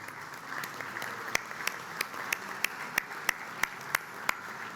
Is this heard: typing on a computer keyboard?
no